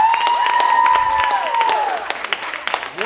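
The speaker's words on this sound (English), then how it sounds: "yourselves a huge round of applause" Audience applause at a beauty pageant training session, clapping under a sustained cheering or whistling tone that fades to scattered claps near the end.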